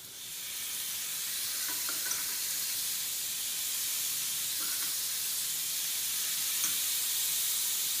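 Reserved marinade hits a hot griddle with scallops in fajita style, setting off a loud, steady sizzle and steamy hiss that holds for several seconds with a few faint pops, close and without speech.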